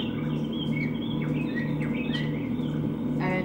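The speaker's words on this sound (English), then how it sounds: "that's a recording that I took of the birds" Birds calling near a barracks balcony in Rwanda, several short chirps and whistled notes over a steady, fairly loud ambient hum.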